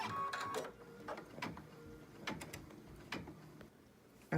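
An embroidery machine stitches an in-the-hoop stocking with faint, irregular mechanical ticks and taps close by.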